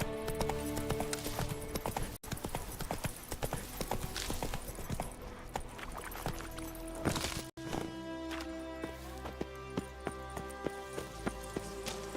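Roach the horse clip-clopping in The Witcher 3, with a steady run of hoofbeats over continuous game music and ambience and no talk.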